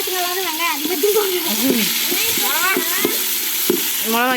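Onions, bay leaf and spices frying in a pot during a village cooking outing with children, a loud steady sizzle with sharp spoon clinks against the pot and lively high-pitched voices calling out over it.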